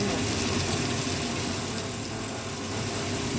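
Two pieces of ginger frying in a pan for a salmon and hairy-gourd soup, giving a steady, close, even sizzle that runs unbroken and alone, with no talk.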